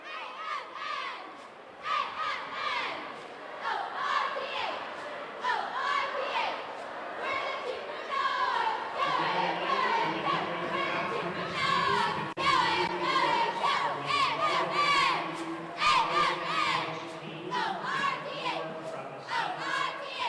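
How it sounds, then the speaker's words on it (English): A squad of Lions cheerleaders chants a rhythmic cheer in a gym at a high school basketball championship in Europe, loud shouted voices in unison with crowd noise around them, running steadily throughout. "the Lions cheerleaders know an AFN cheer"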